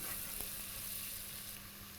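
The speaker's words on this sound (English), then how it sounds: "We will fry the onion till it is golden brown in color." Onion frying in a pan until golden brown, a steady soft sizzle running evenly throughout with no voices.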